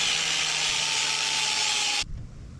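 An engine part is ground down to 6 millimetres, a loud, steady, high-pitched grinding whine that cuts off abruptly near the end, leaving a low clunk and faint room noise.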